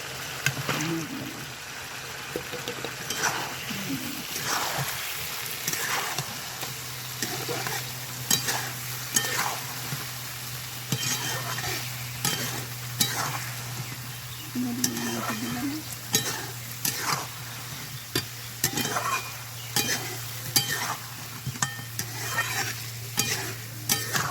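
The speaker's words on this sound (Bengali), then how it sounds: "এবার ভাজা মাছ আমি দিয়ে দিব কষা মশলায়" Fried fish stirred into sizzling cooked-down spice paste for a fish curry, a continuous sizzle broken by repeated scraping stirs at a steady rhythm, with a low hum and occasional voice underneath.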